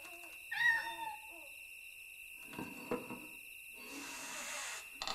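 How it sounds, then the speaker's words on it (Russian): A cat in the video game Atlantis III: The New World gives one clear, rising meow early on, followed by quieter clattering and shuffling game sounds over a faint background tone. "Кошка меня спалит."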